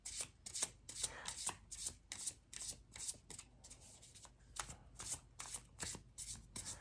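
A deck of tarot cards is shuffled by hand during a reading. The crisp riffling and flicking repeats in quick, even bursts, close and fairly soft, with no one speaking.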